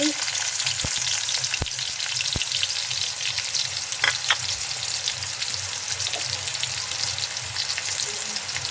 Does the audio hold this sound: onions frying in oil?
yes